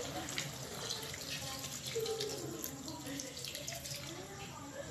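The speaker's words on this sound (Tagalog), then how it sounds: "lalagyan po natin ng tubig hanggang sa maluto" Water pouring into a pot of adobo (chicken stew with sweet potato and chili), a steady close splashing stream that runs throughout while a voice talks faintly underneath.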